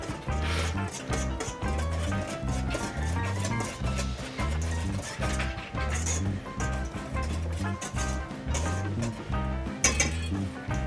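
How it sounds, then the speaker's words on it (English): A whisk clinks rhythmically against a bowl of flour, cinnamon and salt, steady repeated strokes in a regular beat, close and clear with little else around. "we're going to whisk all of these dry ingredients together"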